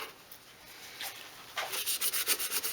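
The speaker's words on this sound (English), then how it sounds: "So I'm giving it a good sand off with the sanding discs" Rhythmic scraping and rubbing strokes of sanding discs on a metal oil can, quiet at first then a steady series of abrasive passes growing louder, up close.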